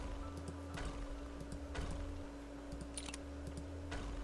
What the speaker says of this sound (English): You can probably hear me clicking away.